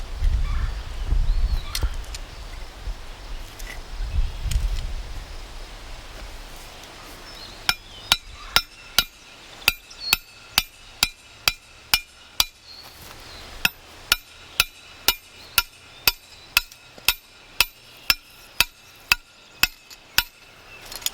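A Berkshire trap stake is hammered into the ground with a steady series of sharp metallic blows, about twenty-five strikes in a regular rhythm after a quieter start with some low rumbling.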